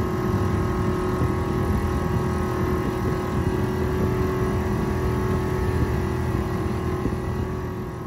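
The outboard motor of a Bayfield 23 sailboat idles steadily at a marina in Dildo, Newfoundland, giving a constant droning hum with a low rumble and a whine above it that holds even and close, with no speech over it.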